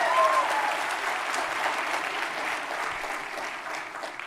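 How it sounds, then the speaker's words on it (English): A conference audience gives a steady round of applause at a moderate distance, a dense wash of clapping that holds evenly and eases slightly toward the end, with a faint voice underneath. "Let's give her a hearty round of applause."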